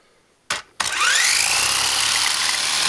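A homemade craft stick sander with a DVD glued to its wheel as a sanding disc starts up with a short burst, then runs at a loud, steady high whine for the rest of the moment, alone with no talk.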